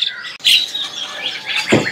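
An anis merah, or orange-headed thrush, gives a few sharp, close chirps and short whistled notes at a bird market, quick and bright with small gaps between them.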